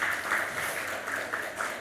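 A church congregation at a Sunday family service in a Korean church in Chile claps together to bless the children, a steady continuous applause of moderate loudness throughout.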